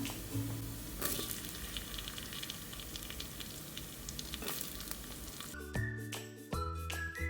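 Coconut pieces sizzle and fry with ginger and garlic in a pot, a steady close crackle of hot oil running throughout, with brief clinks of a utensil toward the end.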